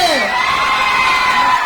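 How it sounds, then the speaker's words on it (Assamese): An audience at an event organized for the visually impaired in Jorhat cheers loudly, with whoops and shouting voices ringing out over crowd noise in one brief, full burst. "তাতকৈ আশ্চৰ্যতাৰ বাবে এটা ডাঙৰ হাত চাপৰি।"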